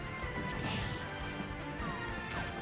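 Big hits crash in Super Smash Bros, a dense loud burst of smashing impacts and game effects layered over continuous gameplay noise, with several harder whacks spread across the stretch.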